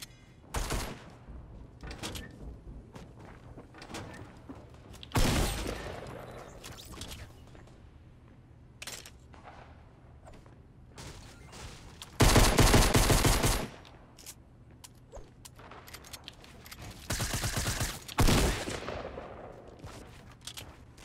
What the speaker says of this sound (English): Got a minigun here.